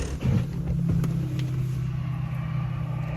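A truck rumbles and idles close by with a steady low drone and a few creaks and clunks near the start, its driver taking it down during lawn mowing work in October.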